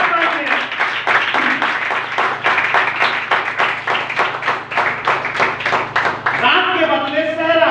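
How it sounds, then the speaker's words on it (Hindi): An audience at a religious sermon gathering claps in a steady, rhythmic unison beat, loud and close, with voices mixed in and speech taking over near the end. "एक बार जोरदार ताली"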